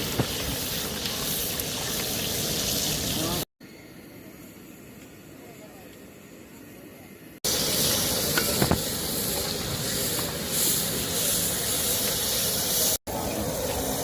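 Cumin seeds sizzle on a hot tawa as a halwai cooks tawa sabzi for a party, making a steady hiss in several cut sections, one much quieter, with voices talking over it.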